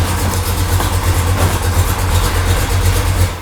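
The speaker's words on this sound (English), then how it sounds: "I don't like to leave it idling because it's a brand new motor" A brand-new engine in a 1969 Dodge Daytona idles with a deep, lumpy, steady rumble, loud and close, with no talk over it.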